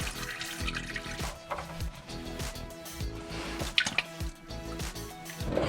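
Fluid drains and drips from a 2004 Subaru WRX STI during turbo removal, with repeated close drips and small splashes plus a trickling flow over several seconds, and no talk.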